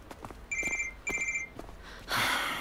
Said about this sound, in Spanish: Está llamando otra vez.